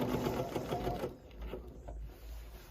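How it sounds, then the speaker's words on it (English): A sewing machine back stitches a seam on a pair of pants, giving a quick, rapid mechanical whir of stitching for about a second that drops to a quieter, softer hum and faint clicks. "Take a couple stitches. We're going to back stitch."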